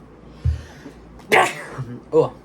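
A single sharp sneeze bursts out close up, preceded by a soft intake of breath and followed by a short vocal sound.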